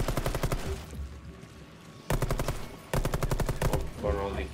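Rapid automatic gunfire in Rainbow Six Extraction, loud and close, comes in two dense bursts separated by quieter stretches, with voices talking over parts of it.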